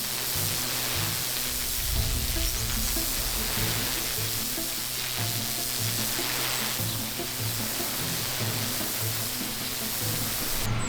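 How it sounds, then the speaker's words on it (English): A pressure washer sprays water through a wide fan nozzle onto a black limestone step, giving off a steady, loud hiss and splash with a pump humming underneath. "I'm just going to give this black limestone step a rinse off. Nice wide fan nozzle"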